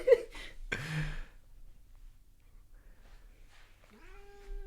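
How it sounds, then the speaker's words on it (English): A cat meows right beside the microphone, two short meows close together at the start and a longer, rising meow near the end, with quiet room noise between them. "We're going to get a Doppler effect with the cat with the microphone."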